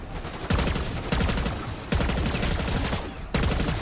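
Bursts of rapid automatic gunfire mowing down zombies in Black Ops 6 Zombies, four loud, close volleys of fast rattling shots separated by brief pauses over game background noise.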